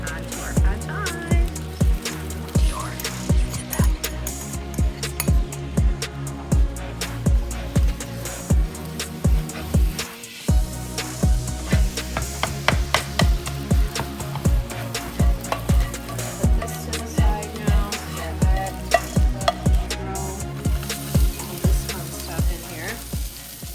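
Shrimp, tofu and meat frying together in a pan for pad thai, a steady sizzle broken by repeated rhythmic tossing and scraping strokes, close and continuous throughout.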